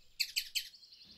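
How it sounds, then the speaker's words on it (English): A squirrel gives three quick, high, bird-like chirps in a row, clear and fairly close, followed by a fainter trailing squeak. "I think it's a squirrel, but it sounds like a little bird."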